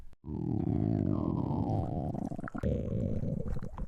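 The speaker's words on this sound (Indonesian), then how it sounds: "katanya masih kenyang, tapi ke perut lu bunyi keroncongan" A long, loud hungry stomach rumble from an animated character, a low gurgling growl that holds for several seconds with a brief dip midway before continuing.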